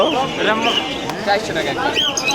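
Pigeons coo at a busy outdoor pigeon market, their soft burbling calls close by and largely mixed under people talking.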